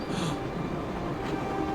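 Steady, loud rumble and rattle inside a moving train carriage in the Broken Sword adventure game, with a continuous low roar and faint squeals of rail noise.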